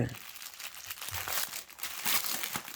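Cross-stitch canvas being unpacked from its plastic packaging, producing close, continuous crinkling and rustling with bursts of sharper crackle, while a person talks quietly over it.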